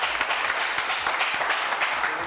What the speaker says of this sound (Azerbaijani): Alqışlayaq Şəfiqə xanımı.